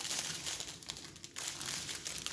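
Diamond painting bead packets are being unwrapped, with quiet close-up plastic crinkling and rustling in a short burst, a brief pause, then more crinkling.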